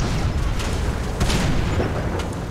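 Heavy booming tank cannon fire in a battle-tank video game, dense overlapping blasts rolling continuously with a few sharper bursts standing out, loud and close throughout.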